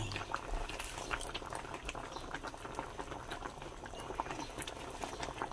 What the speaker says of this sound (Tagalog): Kumulo na po ng kumulo.